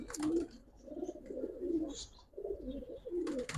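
Giribaz pigeons cooing close by in a loft, soft repeated throaty coos in short phrases with faint background noise.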